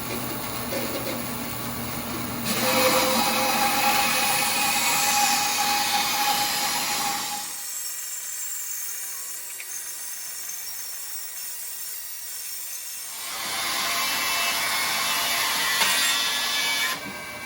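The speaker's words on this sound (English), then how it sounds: "It's times like this I hope my bandsaw blade is sharp. This is a thick piece of oak." A bandsaw resaws a thick piece of oak, giving a sustained, loud rasping cut. It drops to a quieter hum partway through, then the cutting noise swells again near the end.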